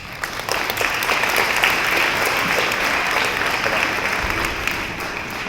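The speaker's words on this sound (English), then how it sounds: "please hold your applause until the end of each class, just so that we can hear all the names" Sustained audience applause fills a graduation ceremony for an elementary school D.A.R.E. program, a dense, steady wash of many hands clapping at even loudness for several seconds with no talk over it.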